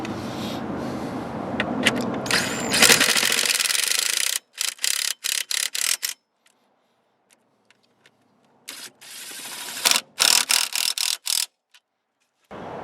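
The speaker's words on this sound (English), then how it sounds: "Go ahead and tighten these bolts back up here." Ratchet clicking in quick bursts while tightening bolts on a 1999–2004 Jeep Grand Cherokee during a turn signal and hazard relay replacement, a rubbing mechanical rasp first, then separated close clusters of clicks with quiet gaps, no talking.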